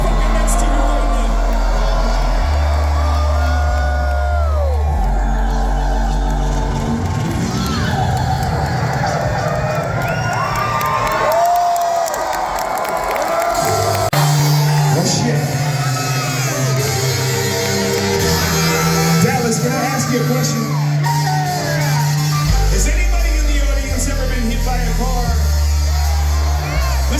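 A concert crowd at a hip-hop show cheers, whoops and shouts continuously, loud and close, with heavy bass music thumping underneath and an amplified voice over the noise at times.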